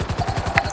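A helicopter in the GTA 5 video game thuds with a fast, steady rotor chop, close and fairly loud, over a brief fraction of a second.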